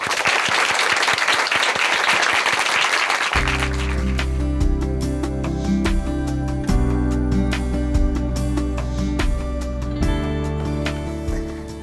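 An audience in a church television studio applauds to welcome a speaker, a dense burst of clapping that gives way to upbeat music while the clapping continues underneath.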